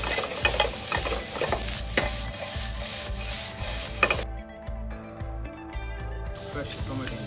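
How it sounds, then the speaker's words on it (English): Okra and onion fry in oil in a resort kitchen at Soneva Fushi, with a steady sizzle and rhythmic scraping of a stirring utensil, close up, while someone talks over it. "Now we're adding okra."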